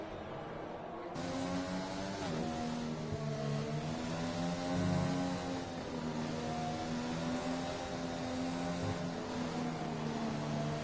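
Race car engines in the F1 2020 video game at the Spain round: a steady, sustained engine drone that rises and falls in pitch as the cars pass and shift, with no talking.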